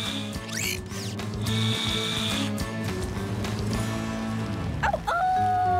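A ratchet screwdriver turns in an animated rescue scene, giving busy clicking and ratcheting mixed with cartoon whooshes, tool whirs and a rising squeaky effect near the end.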